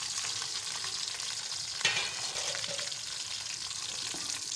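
A steady, soft sizzle of onions browning in a covered pan, with a faint clink partway through.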